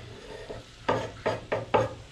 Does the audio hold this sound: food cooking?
yes